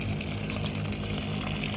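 Water is poured and mixed into rotting vegetable peels left to decompose for plant fertilizer, giving a continuous close gushing, sloshing wash at low level with a faint mechanical hum underneath.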